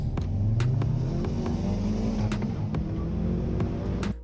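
A Hyundai Veloster N engine drones and rises in pitch as it revs to about 6100 rpm at a race launch, with a steady low rumble and a few sharp clicks.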